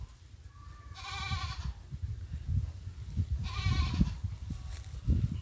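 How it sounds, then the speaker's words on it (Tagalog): Goats on a farm, including a bearded male resting under a tree, give two distinct, moderately close bleats about two seconds apart over low rustling background noise. "Mga kambing na yan."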